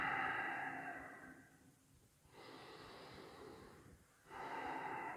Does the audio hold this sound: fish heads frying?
no